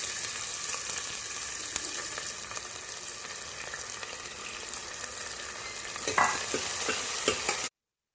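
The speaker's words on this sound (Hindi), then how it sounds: "अब प्याज डालेंगे और लहसुन डालेंगे और उसको भी ब्राउन होने तक भूनेंगे" Onion and garlic frying with cumin in a hot pan in a home kitchen, a steady close sizzle throughout with a few stirring clatters near the end before it cuts off.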